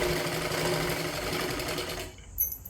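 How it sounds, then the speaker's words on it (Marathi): A sewing machine stitches a katori blouse with a rapid, steady mechanical whir close by, then stops abruptly near the end, followed by a brief click. "आता ह्याच्यावरती आपल्याला अजून एक डबल शिलाई मारून घ्यायची आहे"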